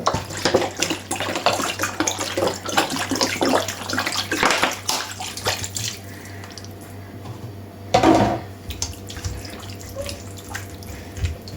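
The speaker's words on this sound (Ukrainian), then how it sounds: "Воду я злила виливаю оцет." About half a litre of vinegar is poured out in a kitchen as a fish marinade is prepared. A splashing, gurgling stream runs for several seconds, quiets, then gives one more short pour near the end.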